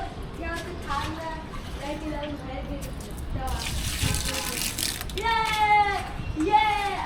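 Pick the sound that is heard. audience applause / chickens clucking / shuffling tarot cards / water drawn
water drawn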